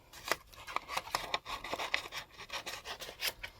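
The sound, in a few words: scissors trimming a piece of paper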